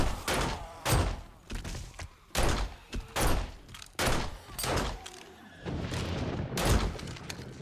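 Gunfire in the zombie survival game 7 Days to Die, with heavy booming shots landing in irregular bursts, several close together and loud, then a rougher stretch of scattered impacts toward the end.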